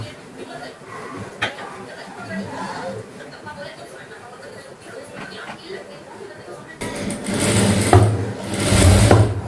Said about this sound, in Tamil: இப்போது இது நம்ம அப்படியே உள்ளே கொடுத்து ஸ்டிச் பண்ணிடலாம்.